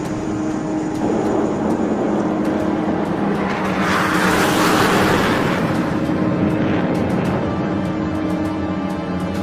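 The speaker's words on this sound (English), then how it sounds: "Overhead, an E-2 Hawkeye from the Wallbanger Squadron is on station directing the aircraft." An E-2 Hawkeye turboprop flies overhead near the Nimitz carrier strike group, a steady broad engine roar that swells to its loudest midway through as it passes, with no voices.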